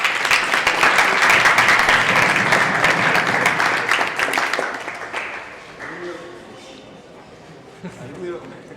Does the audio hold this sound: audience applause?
yes